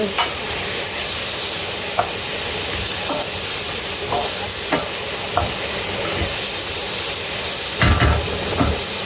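Onions sautéing in a pan for turkey biryani, a loud, close, steady sizzle with intermittent scrapes and taps of a spoon against the pan.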